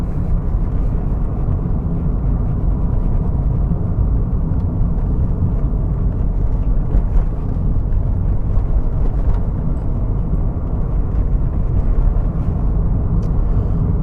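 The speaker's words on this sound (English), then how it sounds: "this air conditioning is blowing nice and cold" Air conditioning inside a Toyota MR2 blows a steady, loud, even rush of air that fills the cabin without pause, with no voices over it.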